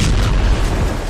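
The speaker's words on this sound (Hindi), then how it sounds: "रूस की मिसाइलों ने कैसे यूक्रेन की बारूदी ट्रेन को धमाके से उड़ा दिया है" Russian missile strike blowing up a Ukrainian ammunition train at a military site in the Donetsk region, a loud, dense, rumbling blast roar filling the short moment without pause.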